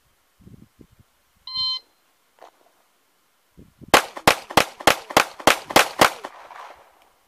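Handgun fired in rapid cadence at an outdoor range, about ten loud sharp shots at roughly quarter-second intervals, preceded by a brief electronic beep and a few quiet clicks.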